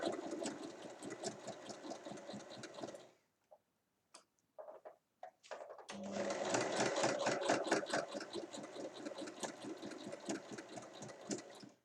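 A sewing machine stitches a fabric seam in two steady runs of rapid, even mechanical chatter, close and clear, separated by a short pause filled with a few isolated clicks.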